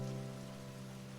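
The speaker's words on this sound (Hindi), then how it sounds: "वो अच्छी बारिश हो रही है ना" Rain falls with a steady, soft hiss, accompanied by a constant low humming drone.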